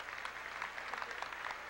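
Applause from a banquet audience for the band at a College Football Hall of Fame ceremony at the Waldorf Astoria, a steady, dense patter of clapping that fills the room without voices.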